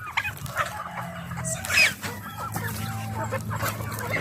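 Chickens cluck steadily alongside turkeys in a backyard poultry pen at feeding time, with a rooster crowing partway through; dense, close farmyard calls fill the whole stretch with no talking.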